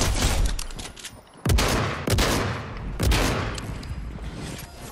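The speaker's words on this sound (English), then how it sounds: "I hear some gunfire." Gunfire in a video game: several bursts of shots with sharp onsets, one near the start and others at roughly one-second gaps, over a constant rumbling background.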